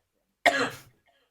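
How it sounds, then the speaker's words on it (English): A single harsh cough bursts out close and clear, lasting under half a second before fading, with silence around it. "Persistent cough."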